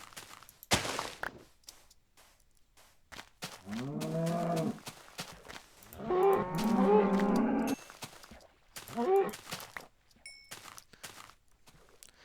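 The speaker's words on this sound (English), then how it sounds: "There's some cattle over there, though." Video game cattle moo several times at varying distances, a few long lowing calls separated by quiet stretches, with scattered footstep and click sounds between them.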